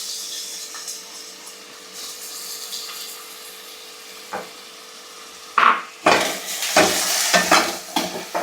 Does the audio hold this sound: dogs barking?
no